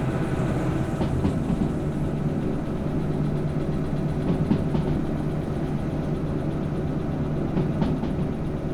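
A train in the video game Derail Valley runs on rails with a steady loud rumble, faint rhythmic wheel clicks and a low engine drone throughout, no one talking.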